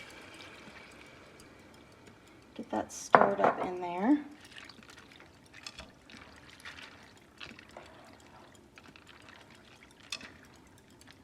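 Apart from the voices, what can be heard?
water pouring into pot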